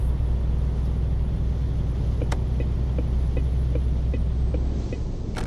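Heavy truck engine in Euro Truck Simulator 2 hauling about 20 tonnes uphill in eleventh gear near 1200–1300 rpm, a steady deep throbbing drone with faint regular ticking, continuous and close throughout.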